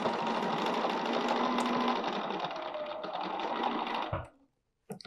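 A sewing machine runs a continuous fast stitching whir while sewing a tree border design on a quilt, steady and fairly close, then stops abruptly into a brief silence and a small click.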